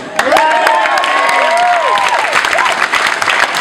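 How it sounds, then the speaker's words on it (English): Audience applause fills the room in a steady wash of dense clapping with some cheering on top. It holds at an even, loud level for the whole stretch. "Give him a round of applause"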